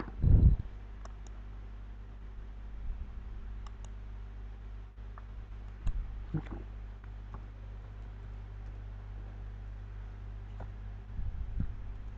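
Mouse clicks on a computer while a certificate is uploaded to Google Drive, a few sharp isolated ticks scattered over a steady low hum, fairly close and quiet with no talking.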